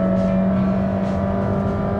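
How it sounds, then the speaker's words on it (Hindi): Honda City Hybrid 2022 engine growling steadily under hard acceleration, a loud continuous drone with a strong low hum and rising whir, heard from inside the car with no talking. "तो यहाँ पे इंजन आप ग्राउल करता हुआ सुन सकते हैं कि हाँ अब इंजन शुरू हो गया है"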